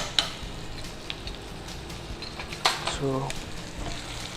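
Vegetables frying in a pan for paneer rice give a steady, moderate sizzle with a few clinks of stirring, while a voice speaks briefly over it.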